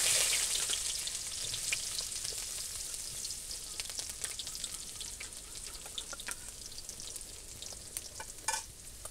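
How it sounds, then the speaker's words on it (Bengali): Chopped onion fries in hot oil in a wok, a loud, continuous sizzle and crackle right up close with occasional spits and stirring and no voices. "কড়াইতে তেল দিয়ে নিছি, এবার পেঁয়াজ কুচি দিয়ে দিলাম"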